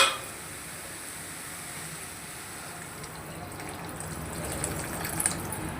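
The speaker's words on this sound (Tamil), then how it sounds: "இப்போ தேவைக்கு ஏற்ப தண்ணி சேர்த்துக்கலாம்" Steady stream of water pouring into a pot of vegetable kurma curry, a continuous soft splashing hiss that swells slightly toward the end.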